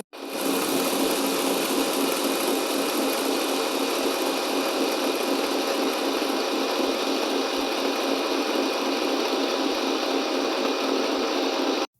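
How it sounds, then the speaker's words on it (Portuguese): An electric stand mixer whips four egg whites toward stiff peaks, a loud, even motor whir and beating hum that holds unbroken from start to finish. "Coloquei aqui na batedeira 4 claras e nós vamos bater em ponto de neve"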